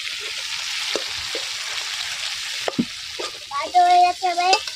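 Shrimp fry in a pan for a bitter gourd fry, giving a steady close sizzle with occasional utensil knocks and stirs. A short high-pitched voice-like sound rises near the end.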